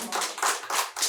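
Applause from a church congregation during a Sunday afternoon lecture, a brief burst of clapping in rhythmic pulses, fairly close and filling the room, with no talk over it.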